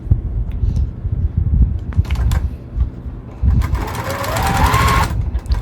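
A home sewing machine stitches a quilt block in a short burst near the end, a fast mechanical whir following a few seconds of low room noise and handling sounds.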